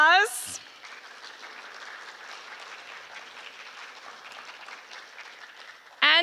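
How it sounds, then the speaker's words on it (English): Audience applause at a mental health conference on Kauaʻi, a steady wash of clapping lasting several seconds, bracketed by brief speech at the start and end. "Let's give them a round of applause."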